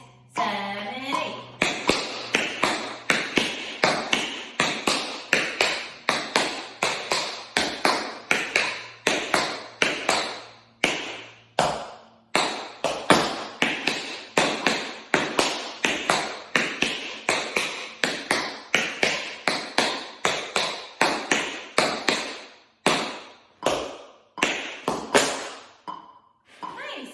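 Quick, crisp tap dance steps rattle on a hard floor in a steady swung rhythm, dense clusters of metallic taps with accented beats, continuing for a long stretch.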